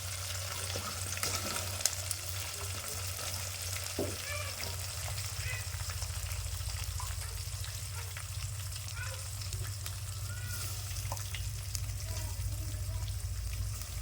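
Long-cut sliced onions and green chillies fry in oil for a village-style palak pulao, an even, crackling sizzle that holds steady throughout with occasional small clinks and stirring sounds.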